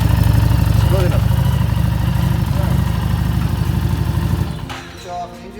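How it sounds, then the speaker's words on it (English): Motorcycle engine idling steadily and loud and close after tyre inflation during puncture repair, then switched off near the end; voices can be heard over it. "Switch off the engine."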